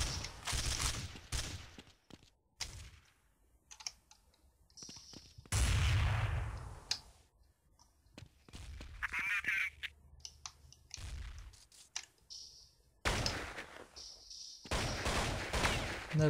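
Gunfire bursts in Counter-Strike 1.6, sharp cracks and short volleys separated by gaps, fairly loud and close, with game sounds in between.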